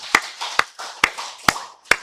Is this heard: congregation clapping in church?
yes